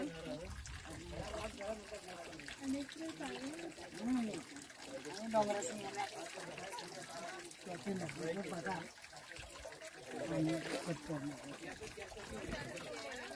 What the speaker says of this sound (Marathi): इथे एक झरा आहे आणि पाणी जिरपून जिरपून या ठिकाणी येते